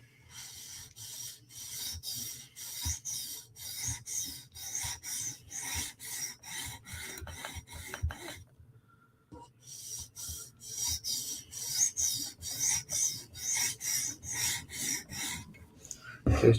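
Forward sharpening strokes on a Hinderer knife in a TSProf Kadet guided sharpener, a run of quick rhythmic rasping passes that stops briefly, then resumes in another steady series, close and clear with no talk.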